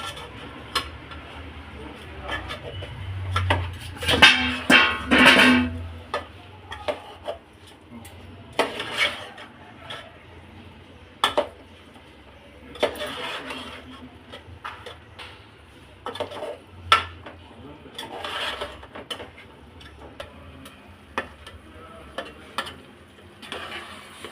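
Utensil scraping and clinking against a pot while mushroom pulao ingredients are stirred and mixed, intermittent clanks and scrapes spread across a quiet kitchen background.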